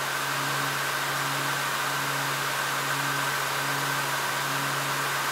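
A laptop cooler's steady fan whir with a constant low hum and faint tonal whine, unchanging throughout, no voices.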